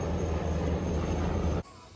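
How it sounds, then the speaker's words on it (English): Helicopters fly past with a loud, steady engine and rotor roar that holds for over a second and a half, then cuts off abruptly into a much quieter background. "these are the helicopters going past."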